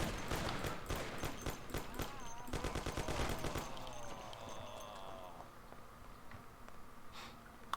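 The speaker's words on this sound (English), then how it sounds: "The recoil on the Thompson is pretty heavy, but it's very easy to control." A Thompson submachine gun in Mafia fires loud rapid bursts in the first half, rattling in quick rhythmic volleys, then falls away to faint scattered sounds and quieter background.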